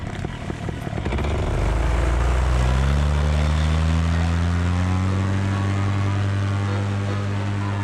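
A paramotor engine roars loud and close during takeoff, its pitch climbing steadily as the throttle opens, then holding a strong, even drone.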